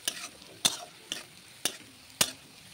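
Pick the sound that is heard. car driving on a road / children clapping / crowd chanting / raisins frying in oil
raisins frying in oil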